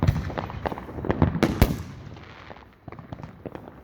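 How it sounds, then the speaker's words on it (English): Fireworks bursting close by at an outdoor airshow fireworks display, a rapid run of loud sharp cracks and booms with two especially heavy blasts, then fading to scattered quieter pops. "The far ones are just other people lighting fireworks."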